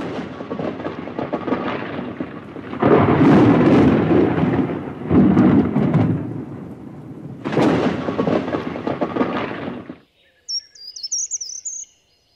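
Thunderstorm with heavy rolling thunder in several loud, rumbling bursts over steady rain, then a sudden hush broken by bright bird chirps.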